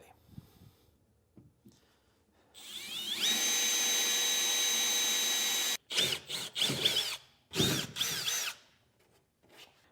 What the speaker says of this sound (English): drill our holes. This is basically just going to be our pilot holes.